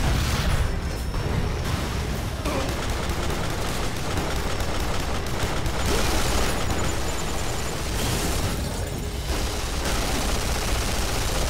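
Sustained pistol gunfire in the video game Duke Nukem Forever, dense overlapping shots and blasts filling the whole stretch at high volume with brief gaps, no talk.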